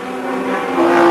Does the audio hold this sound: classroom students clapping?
no